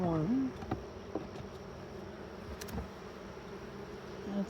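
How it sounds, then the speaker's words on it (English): Honeybees buzzing in an open hive, a faint, steady drone of many insects close by, with a brief higher whine at the start and scattered small knocks and rustles, no talk. "there's a lot of bees"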